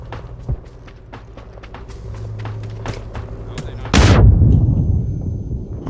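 Gunfire in PUBG on Xbox Series S, with a series of sharp shots of mixed loudness over a low rumbling bed. A heavy blast-like burst lands near the end.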